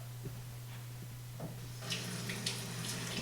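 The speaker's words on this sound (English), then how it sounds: "So I'm just going to fill up each one of these bottles with the hot water." Hot tap water runs into beer bottles in a sink for label removal, a steady close hiss and trickle with brighter splashing bursts later.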